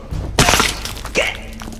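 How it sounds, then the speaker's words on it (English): A neck breaking in the video game The Order: 1886: a short, sharp crunching crack with a dull thud, followed by fainter scuffling. "That satisfactory sound of a neck breaking."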